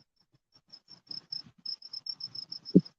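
Crickets kept as fishing bait at a lake, chirping in quick, faint, high pulses in a quiet setting, closed by one soft thump.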